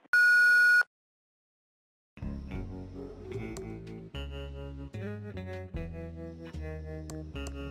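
A single loud electronic beep from an answering machine in the video game Thimbleweed Park, short and steady, then silence before bright synthesized music with a plucked, rhythmic pattern begins.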